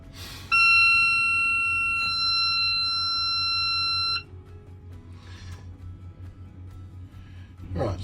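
A boat's control panel alarm sounds a steady, loud electronic tone for about four seconds, then cuts off, leaving a low engine idle hum and faint background noise.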